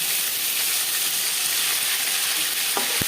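Katla fish sizzles loudly in hot oil, a dense close-up crackling hiss that continues steadily, with a couple of faint clicks near the end.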